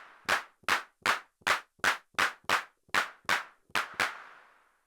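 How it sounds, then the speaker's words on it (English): UNO Drum drum machine clap sample, analog circuit, triggered eleven times in a steady rhythm: sharp, bright, dry hand-clap hits with short decay, the last one ringing out a little longer, loud and close with nothing else playing. "Clap. You can only adjust the decay."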